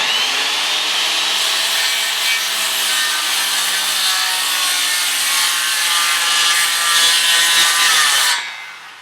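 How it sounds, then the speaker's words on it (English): A circular skill saw rips lengthwise through a wooden board with a steady, loud, close whine and grinding bite for about eight seconds, then cuts off abruptly. No talking over it. "Alright, and there's your rip cut."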